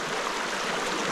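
A stream flows in a steady, soft rush of water, close and even throughout, with no voices.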